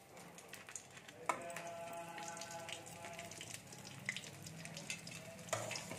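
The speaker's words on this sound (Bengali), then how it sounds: "তেল গরম হয়ে গেছে, আমি বড়িগুলোকে ভেজে নেব। দেখুন বড়িগুলো ভেজে নিচ্ছি।" Lentil bori dumplings fry in hot oil, a faint, steady crackling sizzle with occasional sharper pops and spoon clicks, heard quietly and without talk.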